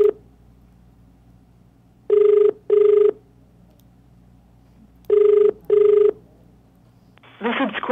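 An outgoing phone call rings back in two pairs of short electronic buzzes, loud and clear over a quiet line, followed by the start of a recorded voice.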